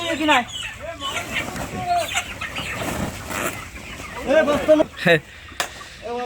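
Colour Bird chickens cluck and call repeatedly in a poultry room, close and fairly loud, mixed with nearby human voices and general bustle.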